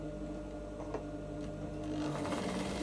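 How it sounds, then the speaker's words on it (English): Sewing machine stitching the leg seam of a women's straight trouser, running steadily at close range with a soft whirring rattle that grows slightly louder near the end, no talking. "So I'm going to be sewing it by 6 inches."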